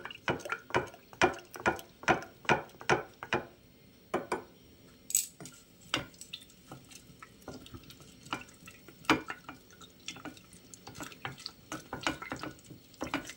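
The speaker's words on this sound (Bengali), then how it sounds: "এবারে একটু ভালো করে নাড়িয়ে নেব।" A spoon stirs a homemade black grape wine mixture inside a jar, making a rapid series of sharp clinks and taps against the glass. Soft liquid sloshing runs underneath, with pauses between the bursts of stirring.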